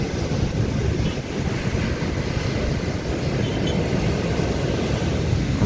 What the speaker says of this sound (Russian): такое у нас бушующее море